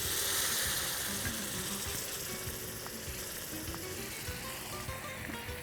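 Cooked cowpeas (karamani) sizzle and fry in a pan while being stirred and mixed, a continuous soft crackle with occasional faint scraping, no voices.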